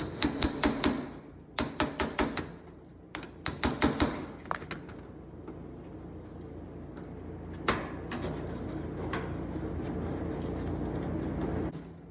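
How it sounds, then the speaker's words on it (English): An impact driver works on the headlight bucket screws of a 1958 Plymouth, rattling in three short hammering bursts, then a single sharp knock, followed by a faint, steady background hum. "Maybe I'll just try it with the impact driver."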